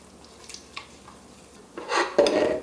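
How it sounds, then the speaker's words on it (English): Allulose being stirred into a warm milk and butter mixture in a pot, with soft scraping and clinking of a utensil against the pan that grows louder and more continuous toward the end. "We need to fully dissolve the allulose into the milk butter"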